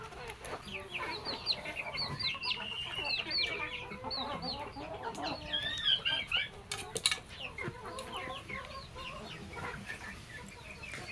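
Several silkie chickens, hens and a rooster, cluck and chatter softly nearby in an irregular, overlapping stream, with a few sharper calls standing out.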